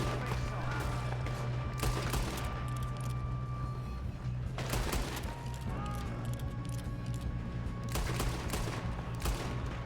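Gunfire in Red Dead Redemption 2 during a train robbery: repeated loud shots and volleys crack over a steady humming background, with bursts clustered near the start, middle and end and little pause between them.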